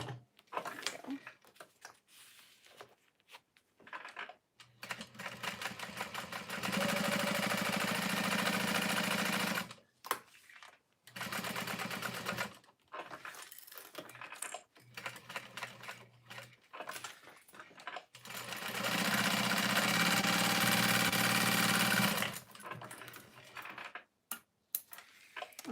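Sewing machine top stitching a vinyl satchel, with two long, steady whirring runs of rapid stitching between stretches of handling clicks, rustles and small clanks, all close and without speech.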